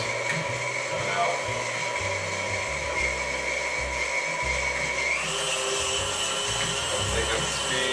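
An electric mixer runs continuously, beating cream cheese frosting of butter, cream cheese and powdered sugar for cupcakes in a kitchen, a steady whirring drone whose pitch rises partway through as the speed increases, with some talk over it.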